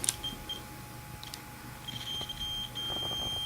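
Continuity tester on an Allstar fencing reel wire giving a thin, steady electronic tone that sounds briefly at the start, then returns and holds through the second half, quiet against faint background noise.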